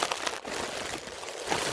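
A stack of plastic bags crinkles and rustles close by in a steady, dense crackle that runs the whole time, with a couple of brighter crunches near the start and end.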